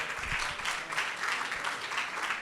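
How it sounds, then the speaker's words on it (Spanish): Sustained audience applause at a talk on housing production, a dense, even patter of many hands heard from a moderate distance, with no voices over it. "Démosle la bienvenida también con un fuerte aplauso"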